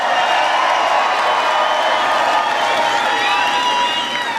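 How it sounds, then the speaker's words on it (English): A large crowd at a political rally in Toledo claps and cheers loudly and continuously, a dense, steady roar of applause with scattered shouts and whistles. "Give Kenyatta a big round of applause."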